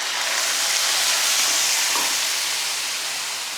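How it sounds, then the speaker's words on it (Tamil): Steady, loud broadband hiss and sizzle of adai dosa chutney poured into a hot pan with tempering and curry leaves, continuous throughout with a slight fade near the end. "சட்னியை ஊற்றினதுமே அப்படியே சலசலன்னு ஒரு கொதி வரும்."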